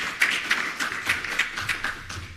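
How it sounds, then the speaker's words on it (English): Faint, scattered hand clapping rises in uneven bursts from a conference audience at the 18th IST-Africa Conference 2023 as a speaker finishes. "Let us give a round of applause to Dr."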